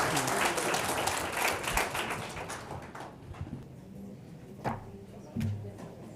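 Audience applause fills a hall after a talk on cultural diplomacy, dense clapping fading over a few seconds into sparse scattered claps, with faint talk beneath.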